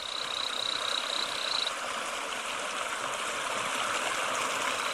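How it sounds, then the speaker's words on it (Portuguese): A waterfall frog gives a brief high call early on, faint against the loud, steady roar of a rushing waterfall that fills the whole scene. "Como a maioria das rãs, o macho canta para atrair uma parceira."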